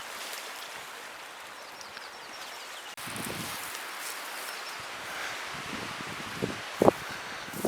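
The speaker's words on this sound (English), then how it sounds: "It's starting to get a little windy out here." Wind gusting through leaves along an Alaskan hiking trail near Crescent Lake, a soft continuous rustle that swells partway through, with faint brief knocks near the end.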